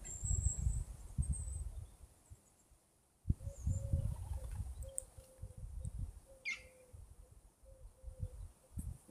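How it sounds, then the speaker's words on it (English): Birds chirp and call outdoors in short, scattered bursts, with a faint steady insect-like whine and low rustling or handling noise near the microphone throughout. "there's also birds there."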